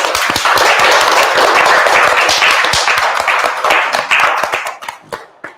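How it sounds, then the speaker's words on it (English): Dense applause from a crowd, loud and sustained, then thinning to a few scattered claps at the end. "Can you give yourself a round of applause?"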